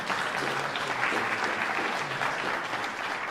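A full audience applauds at a regional recitation contest awards ceremony in a cultural centre, a steady, dense wash of clapping sustained at even loudness for several seconds, no voices on top.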